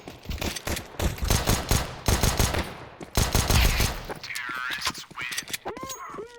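Rapid bursts of video game gunfire, repeated automatic volleys in several clusters, loud and close, followed by sharper metallic shots and sweeping electronic tones; players chatter over it.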